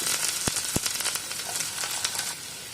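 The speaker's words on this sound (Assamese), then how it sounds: "কাচকলখিনি দি দিলোঁ ইয়াতে, আৰু এইখিনি মই অকণমান ভাজি ল'ম।" Chopped raw banana fries in hot mustard oil with nigella seeds, a close steady sizzle with a few sharp crackling pops at the start.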